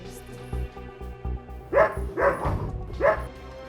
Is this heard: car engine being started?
no